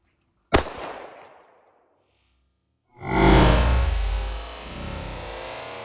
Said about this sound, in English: now we're gonna shoot it with the 45